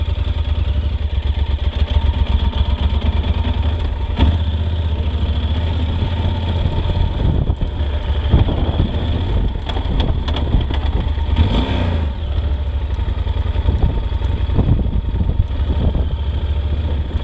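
A motorcycle rides past with its engine running steadily and loud throughout, the rev rising and falling as it passes close by, with no talk over it.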